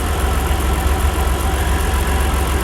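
A 2004 Mitsubishi Pajero GDI engine idles roughly and unevenly, a steady close low rumble with faint popping from the airbox and no talking.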